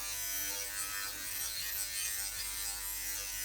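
A Philips Body Groomer 7000 electric trimmer buzzes steadily while cutting body hair short, its high, bright motor whine loud and close, with slight changes as it moves across the skin.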